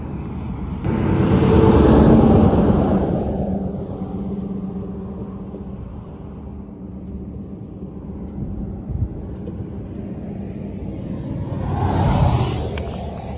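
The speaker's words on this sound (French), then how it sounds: "Il y a un flux ininterrompu de camions maintenant." Heavy trucks roar past on a US highway, a loud rumbling whoosh swelling and fading, then another approaching near the end.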